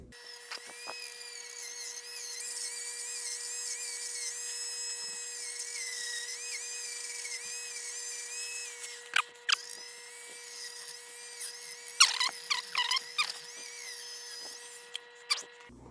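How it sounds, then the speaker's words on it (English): A small high-pitched Dremel rotary tool with a sanding tip whines steadily, then cuts in and out in short bursts as it sands a surface, fairly close. "I remembered I have a Dremel with a sanding tip."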